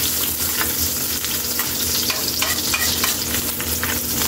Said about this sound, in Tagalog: Lagay na natin yung bawang.